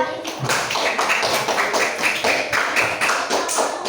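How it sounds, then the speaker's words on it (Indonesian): Classroom applause for a fifth-grade pupil at an Indonesian primary school, a short burst of rhythmic group clapping from children, steady and fairly close, with voices mixed in. "tepuk tangan untuk Mas Rakil"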